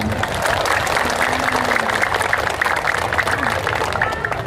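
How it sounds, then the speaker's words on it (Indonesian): Crowd applause at a political speech in Cirebon, a steady wash of clapping from a large audience with faint background murmur, continuous throughout. "Tepuk tangan."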